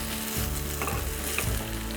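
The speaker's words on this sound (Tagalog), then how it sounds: "Pag nag-saute ka, sarap narinig mo yung sizzling sound." Onions and garlic sautéing in a hot pan for risoni arroz caldo give a loud, steady sizzle and crackle, with a couple of stirring scrapes partway through and no talking.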